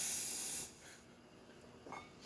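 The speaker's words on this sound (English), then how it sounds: "Nice strong steam." Steam wand on a brass La Pavoni espresso machine after a full tune-up, giving a strong, bright hiss for about half a second before it cuts off, followed by quiet and a few small clicks.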